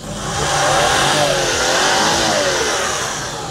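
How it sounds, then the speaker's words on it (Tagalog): A small Suzuki K6A engine in a mini van starts and runs steadily at a medium pitch, rising and falling slightly as it revs, loud and close, with no voices. "Start natin yung makina natin."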